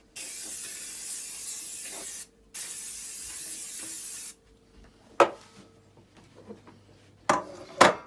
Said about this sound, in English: Now, butter the baking tin.